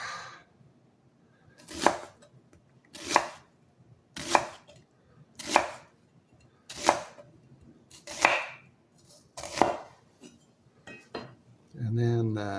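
A knife chops an onion on a cutting board in about eight sharp, evenly spaced strikes roughly a second apart, loud and close, and a voice briefly speaks at the end.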